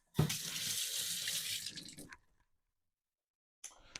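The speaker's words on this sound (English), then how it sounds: "I'm just going to wash my hands." Hands washed under a running kitchen tap, a bright hiss of flowing water for about two seconds that stops abruptly, followed by silence and a brief splash at the end.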